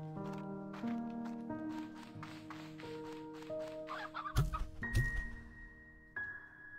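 Video game chickens in Slime Rancher 2 cluck in a few short bursts, fairly quiet and set against sustained tonal game music.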